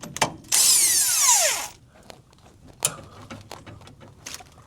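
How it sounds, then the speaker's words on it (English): An impact wrench works on the suspension of a Ford Ranger pickup, giving one loud whirring burst of about a second, with a rising and falling whine. Clanks and clicks from tools follow, and there is no talk. "I bought brand new impacts after last video, and it's spinning from the bottom."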